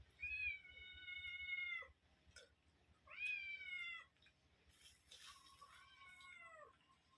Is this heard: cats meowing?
yes